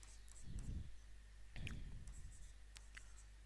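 Chalk or marker writing on a classroom board: two faint, scratchy strokes of about half a second each, close and quiet, over a low steady hum, with no talking.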